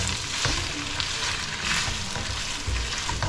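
Vegetables sautéing in a pan with vegetarian mushroom oyster sauce and pepper, a steady close sizzle with stirring scrapes throughout, no talk.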